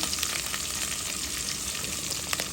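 Garlic and onion sizzle steadily in hot oil in a pan, a dense, even frying hiss that stays close and continuous throughout, with no voices.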